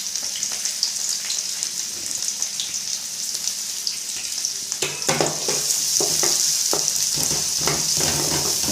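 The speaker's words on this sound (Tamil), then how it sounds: "நல்லா எண்ணெயிலேயே வதங்கிட்டங்க" Chopped onions and curry leaves fry in hot oil with a bright continuous sizzle, growing louder partway through as a utensil scrapes and stirs the pan in several distinct knocks, close by.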